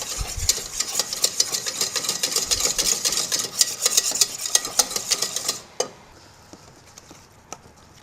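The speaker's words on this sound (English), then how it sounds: "we're going to add a little bit of the Grand Marnier and stir up again" A spoon stirring a thick paste with Grand Marnier in a bowl, giving quick repeated clinking and scraping strokes close by, then stopping abruptly, leaving a quiet room with a couple of stray taps.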